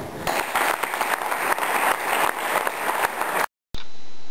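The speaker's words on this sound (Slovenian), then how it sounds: "zaslužite en velik aplavz" Audience applause in a concert hall at a charity concert, a sustained, even wash of many hands clapping that cuts off abruptly near the end.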